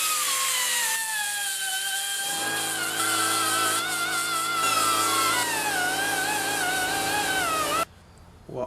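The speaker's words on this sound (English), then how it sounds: "now to cut a little piece that goes here" A power tool cuts a small metal piece for an Allis Chalmers 310 tractor restoration, giving a steady whining drone with shifting pitch that runs for several seconds and then stops abruptly.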